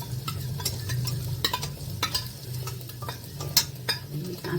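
Tomato sauce goes into frying cauliflower manchurian and is stirred, with repeated utensil scrapes and clinks against the pan over a low sizzle, close and without talk.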